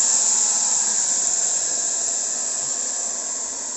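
A belt grinder runs continuously as it grinds the bevel on a knife blade, producing a steady, close, high-pitched whirring hiss that fades slightly toward the end, with no talking.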